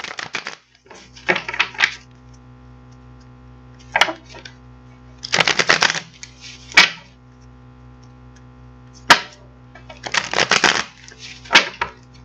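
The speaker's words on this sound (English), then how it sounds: "So we're going to get these cards out and see what we can get for the collective." A deck of tarot or oracle cards being shuffled in several distinct riffling bursts separated by pauses, close and moderately loud, with a steady low hum underneath and no talking.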